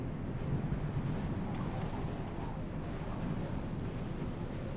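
Wind blows across a snowy outdoor area in the Star Citizen video game: a steady, moderately quiet rushing whoosh with a deep rumble that never lets up. No voices are heard.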